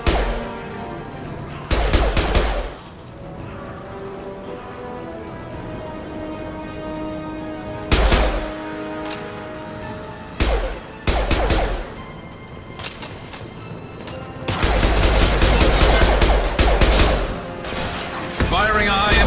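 Sharp gunfire bursts from weapons in Mass Effect 2, a sci-fi shooter game, come in several loud clusters with rain-like crackle and game ambience between them, and speech is heard over parts of the clip.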